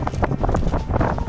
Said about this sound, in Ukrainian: Зараз тут біля вулкану Тейде дуже вітряно.